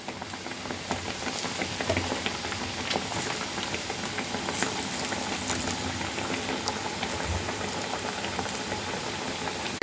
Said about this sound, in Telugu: మంచిగా డీప్ ఫ్రై చేసుకోవడం ఏముంది.